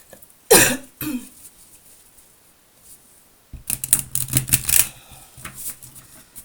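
Tarot cards riffled and shuffled close by in a quick burst of crisp flutters, after an earlier brief rustle and a quiet pause.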